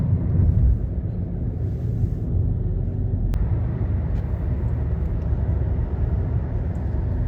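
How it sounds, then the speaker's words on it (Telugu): Dense, heavy traffic on a highway with cars packed back to back, forming a steady low rumble of engines and tyres throughout, with one brief sharp click partway through and no talking. "సో హైవేలోనే ఇంత ట్రాఫిక్ ఉంది చూడండి"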